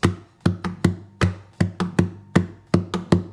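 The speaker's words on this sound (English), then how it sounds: "So 2 against 3, the one that we're going to learn, sounds like this." Hands tap a crisp, close rhythm on a hard surface, two interlocking pulses of twos against threes repeating steadily for a few seconds.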